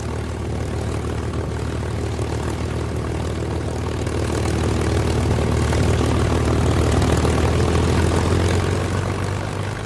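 A North American P-51 Mustang fighter's piston engine drones continuously, a deep propeller roar that swells slightly louder midway and holds steady with no voices.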